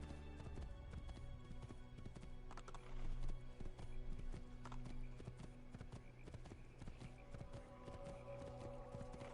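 A horse's hooves clip-clop steadily through a crowded street in the video game Assassin's Creed II, quiet and continuous under game ambience, with a brief whinny.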